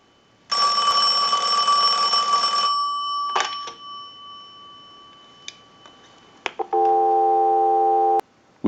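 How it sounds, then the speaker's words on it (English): Telephone line analyzer tone heard during a Western Electric Princess telephone repair: a loud steady buzzing tone for about two seconds, then brief clicks and short tones, then a second steady multi-pitch tone. "we'll give you some dial tone"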